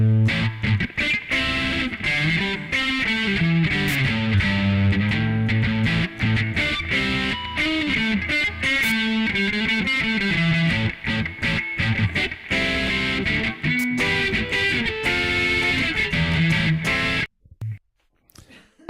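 A heavily distorted lead guitar riff played through a tube amplifier simulator in lead mode, with dense saturated notes and bends running continuously and loudly before stopping abruptly near the end.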